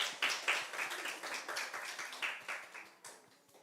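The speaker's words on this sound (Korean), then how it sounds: "다시 한번 박수 하겠습니다" A church congregation claps at a New Year's Eve worship service, a short, fairly quiet burst of rhythmic hand claps with the beat slightly uneven, fading toward the end.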